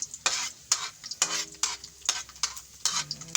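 Garlic sautéing in a kawali, with loud, close scraping strokes of a spatula in a quick repeated rhythm over a crackling sizzle.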